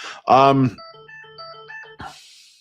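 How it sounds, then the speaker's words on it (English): A phone ringtone plays a short electronic melody of clear stepped notes right after a brief spoken word, fairly loud and close, with a voice cutting back in at the end. "Sorry, that's a really annoying ringtone"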